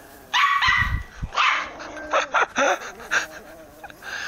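A dog barking in repeated sharp bursts, loud and close, some barks coming in quick clusters, heard over a video game session.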